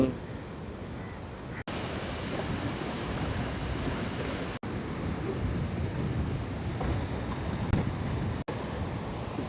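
Sea waves surge steadily onto a damaged shoreline, a continuous loud wash of surf with wind buffeting the microphone and a few brief dropouts, no voices.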